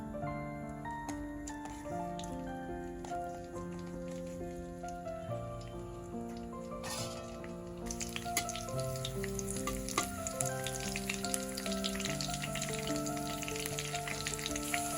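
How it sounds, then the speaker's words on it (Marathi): Green chillies frying in hot oil in a wok give a steady crackling sizzle that runs the whole time and grows brighter and denser in the second half, with musical tones carrying underneath. "आता गरम तेल झालेलं आहे, हिरवी मिरची टाकूया"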